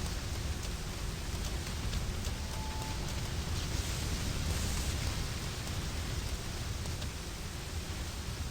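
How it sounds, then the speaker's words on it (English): Steady, dense rainfall in the video game Ninja Gaiden II hisses continuously with an even, unchanging intensity, a synthetic-sounding wash of rain with no voices. "Oh, no, there's the rain."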